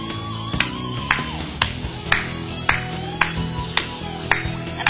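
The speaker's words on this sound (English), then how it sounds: "To demonstrate this, I'm going to be clapping" Hands clap a steady rhythmic beat at an even pace, about nine sharp, close claps in a row, with a faint tonal background and low murmuring underneath.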